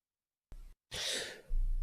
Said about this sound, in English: just had to sneeze pretty bad